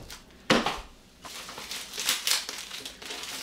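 A plastic bag that came wrapped around an EDR1RXD1 refrigerator water filter being unwrapped, soft close crinkling and rustling in uneven bursts with one sharper crackle, fairly quiet.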